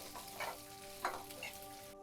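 Onions and coconut sauté in a kadai for a tamarind curry, giving a soft, steady sizzle with a couple of brief stirring scrapes, quiet and close with no voices.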